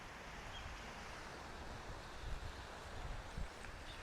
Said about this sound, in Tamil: கடலுங்க.